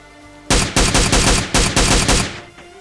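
Rapid bursts of automatic gunfire in a battle royale shooter, several loud clustered volleys in quick succession knocking down an enemy, with no talk.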